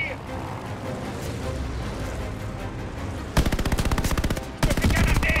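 Rapid machine-gun bursts crackle over a roaring battle din at the Battle of Midway in June 1942, with a fast, dense rattle of repeated shots in the closing seconds and shouting voices under the gunfire.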